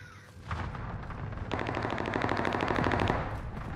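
Rapid automatic gunfire from the video game Call of Duty: Warzone rattles close and loud in a sustained burst, preceded by a brief shorter volley, with no talk over it.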